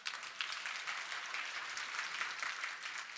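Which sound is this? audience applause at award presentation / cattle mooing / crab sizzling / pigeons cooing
audience applause at award presentation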